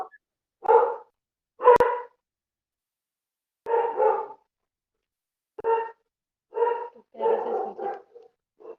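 A dog barks in several separated bursts, some single and some in quick pairs, fairly close and clear against near silence, heard over a remote class call with no speech.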